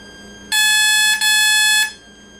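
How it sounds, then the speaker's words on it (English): An RC electronic speed controller on a StrykerQ sounds a programming tone, a loud steady high beep lasting over a second with a brief break in the middle, alone with no voices. "it's going to give you different little beeps for the 4 different options for brake type"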